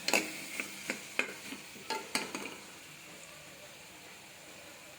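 Ivy gourd curry sizzles softly in a pan while a spoon scrapes and taps it about eight times in the first few seconds, then the frying settles into a quiet, even hiss.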